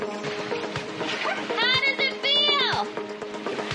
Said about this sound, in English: now it's time to do our inauguration of the crew and throw them overboard